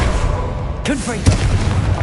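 A Confringo explosive spell going off in Hogwarts Legacy: a sudden loud blast about midway, then a second deep boom with rumbling tail, under a speaking voice.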